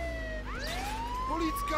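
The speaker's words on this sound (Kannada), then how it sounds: "ಯೂಸ್ ಸೈರನ್ ಹೌದಾ?" A police car siren wails and rises steadily in the video game Contraband Police, heard over a low engine rumble, with a voice talking briefly alongside it.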